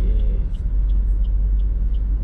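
A car rolls in through the entrance gate of an upscale housing complex in New Cairo, a low steady rumble close by with faint ticking sounds over it.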